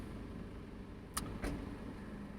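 A car driving through Newark, with a steady low engine and road rumble inside the cabin and two brief clicks partway through.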